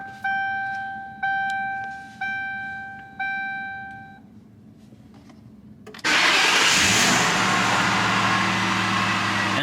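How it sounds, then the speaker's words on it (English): A 2009 Ford Crown Victoria Police Interceptor first gives four evenly spaced electronic chimes. Then its engine cranks and catches, settling into a loud, steady idle rumble close by. "let's turn on the car"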